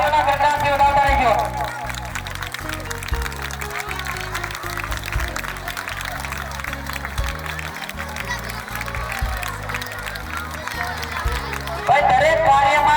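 Audience clapping fills a school hall during a prize-giving at a girls' high school annual function, steady sustained applause over a low music bed and crowd murmur, swelling again near the end.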